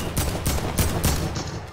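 Rapid Fortnite gunfire crackles in a broken burst of several sharp, loud shots spaced irregularly, each with a bright snap and quick low thump, nothing else alongside.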